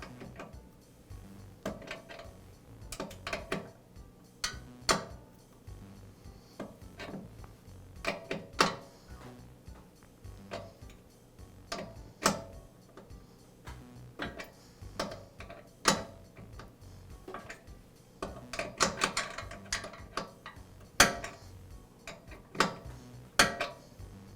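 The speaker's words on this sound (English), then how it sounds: "And I'll secure it with a wrench." A wrench tightens a new safety valve onto a DeWALT air compressor with irregular metallic ratcheting clicks and clinks, close and fairly quiet, in scattered bursts over a long stretch.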